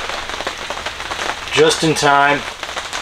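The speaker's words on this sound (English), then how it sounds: "It's starting to rain again." Light rain begins falling again at an outdoor building site where a rough-sawn lumber wall tent platform is going up, a soft steady patter running under a short spoken remark.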